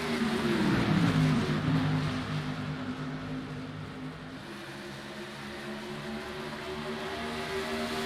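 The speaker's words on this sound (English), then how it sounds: "I just love the sound of those engines, especially if you have the opportunity to see Modifieds live" Modified race car engines at Iowa Speedway drone steadily at a distance, a sustained harmonic roar with a pitch sweep near the start as cars pass, holding loud and continuous throughout.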